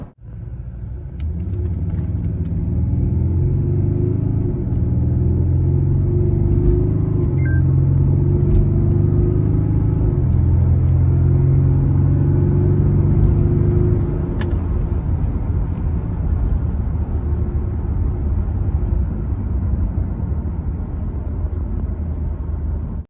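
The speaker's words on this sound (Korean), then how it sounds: "그러면 100km 가속 한번 해볼게요." A 2016 BMW 640d Gran Coupe M Sport, heard from inside the cabin, accelerates hard to 100 km/h with a deep, steady, loud engine rumble for about fourteen seconds before easing off to a lower drone.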